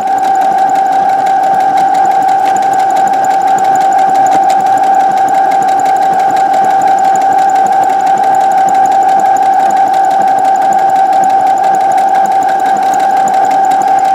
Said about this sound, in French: Et donc là, on va aller coudre. Et on y va. Et on coud tout le long.